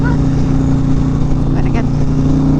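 A motorcycle nicknamed the Beast runs loud and close with a steady, deep engine drone, holding an even throb throughout with no clear change in pitch.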